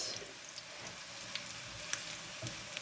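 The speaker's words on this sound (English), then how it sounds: "And now I'm going to put them gently in the pan" Swedish meatballs frying in a pan: a steady, soft sizzle runs throughout with small scattered crackles and pops, fairly quiet, with no talking.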